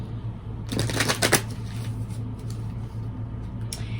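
Tarot and oracle cards being shuffled and pulled, a dense burst of crisp riffling close by for about half a second, then soft handling over a steady low hum, with no talk.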